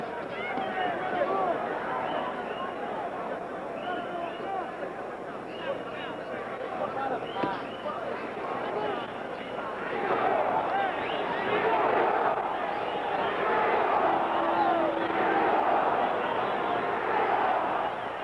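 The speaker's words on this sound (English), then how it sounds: "you hear the crowd picking up the chant for Ringo now" Boxing arena crowd at the Muhammad Ali versus Oscar Bonavena fight, a dense, sustained roar of voices with rhythmic chanting swelling louder toward the end, heard under a broadcaster's commentary.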